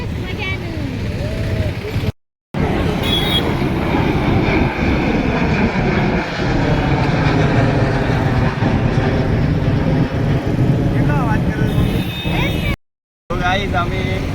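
Airplanes heard up close at an airport, a loud, continuous engine roar rising and holding across the stretch, with brief cuts in the sound.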